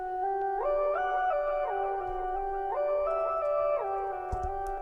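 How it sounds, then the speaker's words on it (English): A keyboard part plays a steady sequence of sustained, gliding synth chords that shift pitch every second or so, clear and unaccompanied with no voices. "And I have a very nice keyboard part that goes like this."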